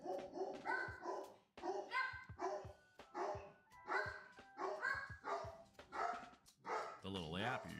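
A small dog named Minnie yaps rapidly and repeatedly in short high barks at close range, a steady stream of yips that carries across the whole stretch.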